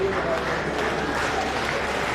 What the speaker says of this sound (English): As you clap